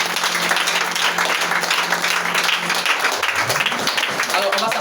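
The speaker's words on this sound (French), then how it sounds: "Est-ce que quelqu'un peut acclamer Jésus?" A church congregation applauds and cheers for Jesus during an anointing worship service, a dense continuous wash of clapping and voices that fills the whole stretch at steady loudness with crowd talk mixed in.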